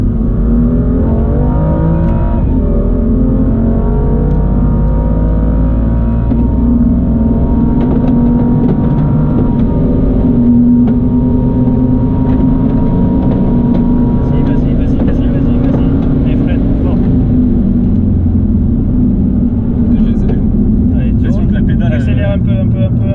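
A race car accelerates hard at full throttle on the Le Castellet circuit, its engine roaring loud and close with a rising pitch that climbs through the gears while an instructor talks over it.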